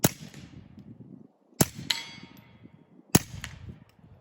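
Three suppressed shots from a Smith & Wesson 22 Compact pistol fitted with a Rugged Mustang suppressor, firing 42-grain subsonic .22 rounds; each is a sharp close crack with a brief ringing metallic clang of the target following, spaced about a second and a half apart.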